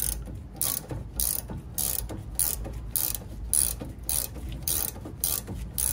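A 17 mm ratchet wrench works a lower control arm bolt on a BMW 5 Series E39, clicking in quick rapid bursts of pawl ratcheting, repeated in steady back-and-forth strokes close up.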